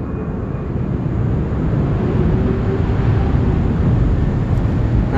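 An airplane near an airport gives a steady, broad roar that holds at constant loudness throughout, with no talk over it.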